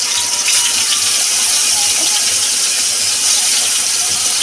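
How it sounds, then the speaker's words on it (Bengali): Bhetki fish pieces frying in hot oil in a wok, giving a loud, steady, continuous sizzle and hiss throughout without a break. "কড়াই বসিয়ে দিয়েছি, তেল দিয়ে দিয়েছি, গরম হয়ে গেছে। এবার মাছগুলো দিয়ে দেবো।"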